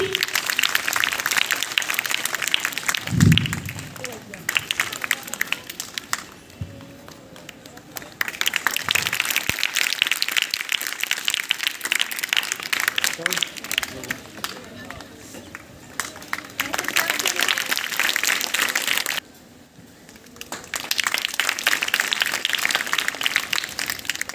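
Clapping and crowd noise from an audience at a school Independence Day cultural programme, broad and sustained across most of the stretch, with brief dips and voices mixed in.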